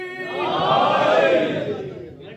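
A large crowd at a religious celebration roars back the Naara-e-Haidari slogan in one loud, sustained collective shout that swells and fades over about two seconds.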